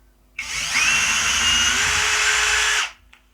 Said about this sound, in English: A little drilling.